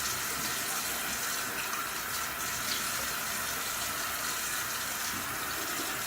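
Tap water runs steadily from a bathroom faucet into a sink as a wet-shaved face is rinsed of shaving soap, a continuous close hiss with no speech.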